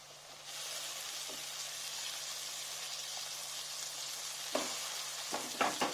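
Tomatoes sauté in a hot pan with a steady, dense sizzle throughout, joined near the end by a few sharp scrapes and knocks of a stirring spoon.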